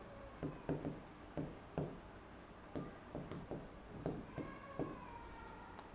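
Chalk or marker scratching out figures on a board in a maths lecture, with quick short strokes and taps in irregular bursts, close and fairly quiet, with no speech over it.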